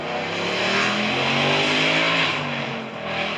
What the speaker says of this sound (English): Okay, that is a car.